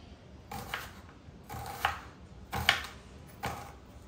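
A knife slices an onion into thin, long strips on a board for Hyderabadi chicken biryani, landing in four evenly spaced, crisp chops with quiet pauses between them and no voices.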